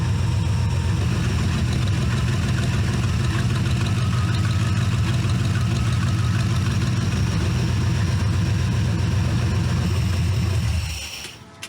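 A C4 Corvette engine fitted to a go-kart idles steadily while warming up, a loud, close, continuous low rumble that holds even for about eleven seconds before cutting off abruptly.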